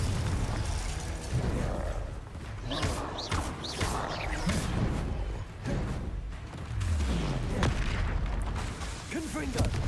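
Confringo and Bombarda spells explode repeatedly in Hogwarts Legacy, with bursts and booms rolling one after another amid combat effects while a person speaks throughout.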